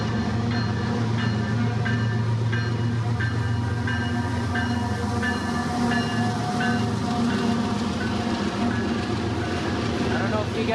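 Freight train led by one engine passes close by, a loud steady rumble with regular rhythmic clicks of wheels over rail joints, a voice speaking over it.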